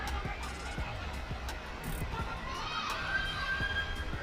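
Arena crowd at a boxing match late in the fifth round, a steady murmur and babble of many voices with occasional raised shouts, continuous and moderately loud throughout.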